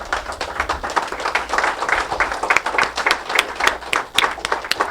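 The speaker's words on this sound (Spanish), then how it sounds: "Ahora sí, un aplauso para ellos, por favor." Applause for candidates at a debate for district deputies, a steady wash of many hands clapping from a live audience, fairly loud and continuous throughout with no talk on top.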